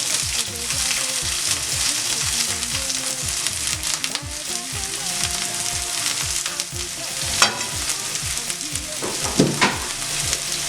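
Onions sizzle and fry in a pan for a tilapia sauce, a constant crackling hiss close up with repeated stirring scrapes.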